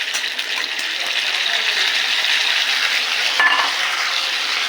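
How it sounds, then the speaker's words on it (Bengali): Potatoes frying in a pan with ginger, tomato and green chilli paste, giving a steady, close sizzle with scraping stir sounds throughout. "আলুটা আরেকটু ভেজে নেব"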